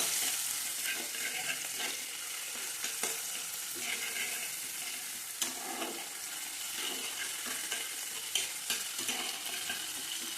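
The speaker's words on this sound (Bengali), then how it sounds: "দেবো আদা বাটা, রসুন বাটা, শুকনো লঙ্কা বাটা। এটাকে আমি একটু নেড়ে নেব।" Ginger, garlic and dried chilli paste sizzle in a pan while being stirred, a dense continuous frying hiss broken by soft scraping strokes, close and fairly loud with no talk.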